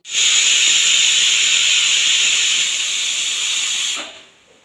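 Pressure cooker whistle while Gobindobhog rice khichuri cooks, a loud continuous steam hiss holding for about four seconds before cutting off abruptly.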